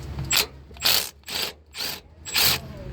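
An impact gun works a bolt on the A/C compressor of a 2005-2010 Nissan Pathfinder R51, giving five loud, close rattling bursts separated by short pauses.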